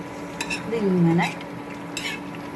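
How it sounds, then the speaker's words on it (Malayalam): A spoon stirring buffalo meat curry with coconut pieces in a pan over low heat, giving a few close scraping and clinking strokes against the metal, one tone briefly ringing out loud, with no talk. "നന്നായിട്ട് ഇളക്കാം"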